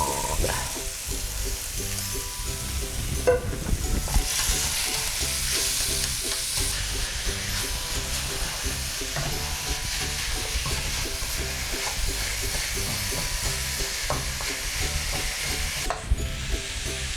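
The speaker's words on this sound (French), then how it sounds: "L'avantage, donc, d'un wok très chaud, c'est que les échalotes vont pas faire plein d'eau, parce que ça va saisir très rapidement." Shallots and meat stir-fry in a very hot wok, giving a loud, continuous sizzle and hiss with steady scraping and stirring scrapes throughout, no talk.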